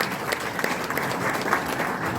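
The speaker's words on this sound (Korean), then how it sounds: "다시 한번 힘찬 박수 부탁드리겠습니다" Applause from an audience at an indoor political rally in a Seoul event hall, a dense steady wash of many hands clapping together for a couple of seconds, fairly close and even in loudness.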